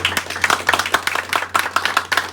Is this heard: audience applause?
yes